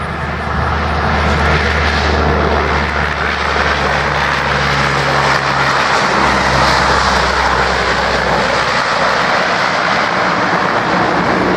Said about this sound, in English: C-130 from Dobbins Air Force Base, touching down on the runway right now